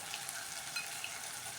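Tomato and dry spices sauté in a pan with a steady close hiss and sizzle and faint stirring clicks, no talking.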